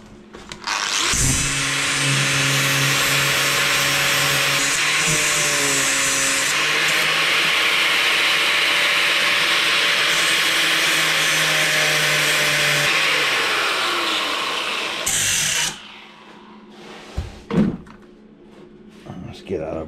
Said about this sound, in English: I'm just going to V all the edges off now to make the welding